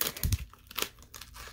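Marvel trading card pack wrapper torn open close up, a quick run of crisp foil crinkles and tearing rips, fairly quiet and with no talking.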